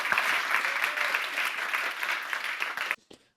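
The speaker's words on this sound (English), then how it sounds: "you will get a spontaneous round of applause from everyone in TEDx Technion" Spontaneous audience applause at a TEDx Technion talk, a dense sustained wash of clapping that cuts off abruptly near the end, leaving a brief faint tail.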